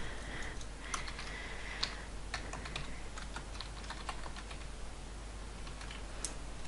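Computer keyboard keys tapped in a steady, close run of quick clicks over a faint background hum while text is added in a photo editor's type tool, with no voices.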